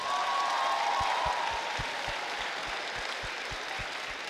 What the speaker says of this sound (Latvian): Un vēlreiz lūgums skaļus aplausus visiem mūsu žūrijas dalībniekiem.